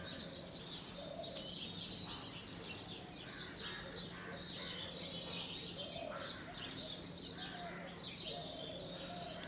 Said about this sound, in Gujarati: એટલું ફાઇન વેધર છે બર્ડ્સ બોલે છે